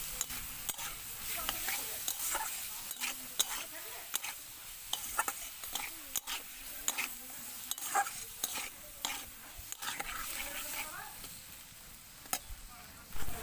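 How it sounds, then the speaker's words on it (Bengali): Potatoes stirred with onions in a hot pan, a continuous sizzle punctuated by frequent rhythmic spatula scrapes and knocks against the pan, close and busy throughout. "তো আলুটা এখানে আমি পেঁয়াজের সাথে খানিকক্ষণ নাড়াচাড়া করে নিয়েছি"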